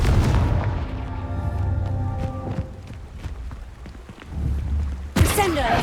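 Fire-spell blasts from the Hogwarts Legacy video game: booming explosive hits with low rumbling bursts amid game music, with a sharp loud crash near the end.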